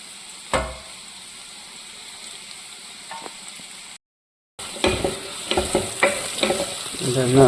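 Onions sautéing in rice bran oil sizzle steadily in the pan, with a spoon scraping and stirring in repeated clattering strokes after a brief gap, close and fairly loud, with no talking.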